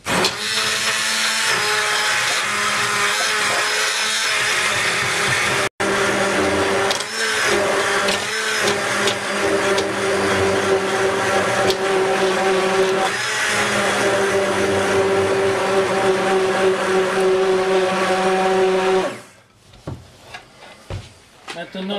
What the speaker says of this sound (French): mixer tout ça.